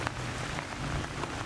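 Heavy rain pouring steadily during a storm at a lakeside fishing spot, a dense continuous hiss filling the whole stretch with no talk.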